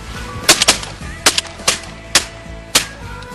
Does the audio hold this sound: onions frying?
no